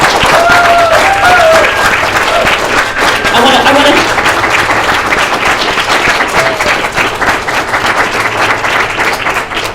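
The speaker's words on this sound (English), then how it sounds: "they really need a big round of applause" A civic hackathon audience claps loudly and steadily for the core team, a dense, sustained wash of applause with voices talking over it.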